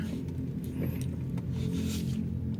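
A Toyota Altis 1.8 HV from 2020 has just started and runs very quietly, a low, steady hum barely above the cabin's air-conditioning fan, with faint clicks and no talking.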